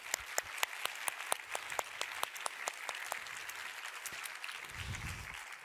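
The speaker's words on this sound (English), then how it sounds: "Give her a warm applause" Audience at a tech conference panel clapping to welcome the Microsoft CEO on stage, a thin spread of individual claps with sharp distinct hits over a quiet room, tapering off as a low rumble of movement follows.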